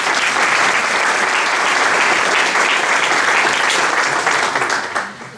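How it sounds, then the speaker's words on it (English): An audience at an evening event honoring a Central High School student bursts into loud, dense applause that holds steady for about five seconds, then fades quickly at the end. "Please, a big round of applause for her."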